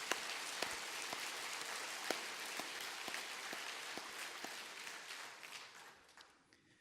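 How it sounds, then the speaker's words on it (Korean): A church congregation applauds during a sermon, scattered hand claps building into a dense, even patter that holds steady and then fades away toward the end, with no voices heard. "우리 한번 저분들을 위해서 한번 큰 박수 보내주세요."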